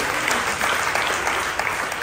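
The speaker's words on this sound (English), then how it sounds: "Put your hand together for her." Church congregation applauds loudly and steadily, dense clapping filling the whole moment without pause.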